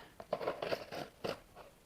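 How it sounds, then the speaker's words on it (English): Scissors snip and slice through packing tape on a cardboard box, several short crisp cuts in quick, uneven succession, close and fairly quiet. "I've got a pair of scissors here"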